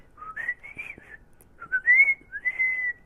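Melodic whistling in two phrases, each with rising and sliding bird-like notes, a human whistle imitating birdsong, clear and close.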